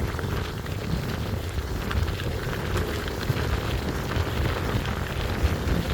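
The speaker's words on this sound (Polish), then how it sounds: "Szkoda tylko, że pod wiatr." Headwind roars across the microphone while riding a gravel bike on country tracks, a constant loud broadband rush of wind buffeting with no speech.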